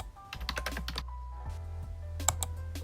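Typing on a computer keyboard, a quick run of close, soft key clicks followed by a few scattered taps over a low steady hum.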